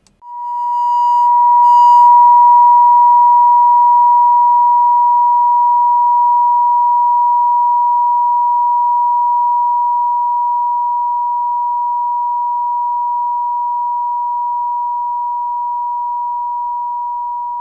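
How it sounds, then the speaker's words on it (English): Pure sine tone from the solfeggio frequency scale, one long unbroken steady pitch held for nearly eighteen seconds and slowly fading, preceded by a few faint blips at the start. "the essential tones of the original solfeggio scale"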